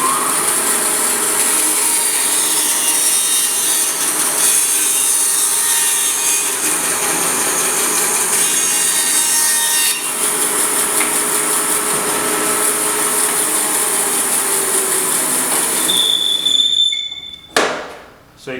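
A power saw in a studio workshop cuts through wood with a loud, steady, harsh rasping whine that holds for most of the cut, then winds down and stops near the end with a few clunks.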